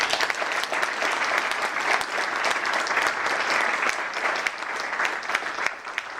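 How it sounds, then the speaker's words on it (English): A crowd at a city State of the City address in Shaker Heights applauds the vice mayor and officials, a dense, steady wash of many hands clapping that stays loud and even throughout. "Please give them a round of applause."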